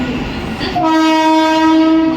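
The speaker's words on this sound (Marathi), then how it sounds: "local arrived on platform number 2" A Mumbai local train to Parel rumbles in, then its horn blares loudly and steadily, close by, as it reaches platform 2.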